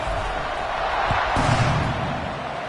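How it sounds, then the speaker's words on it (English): A football stadium crowd at a Texas Tech versus Georgia game keeps up a loud, steady roar after a score, with a brief thump partway through. "this crowd is buzzing after that last score"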